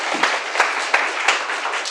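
Enthusiastic applause from students in a university class, a dense, steady patter of many hands clapping at once.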